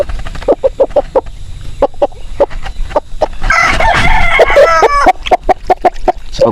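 Aseel game chickens cluck in quick repeated bursts close by, with a rooster's loud crowing rising in the middle before the steady clucking resumes.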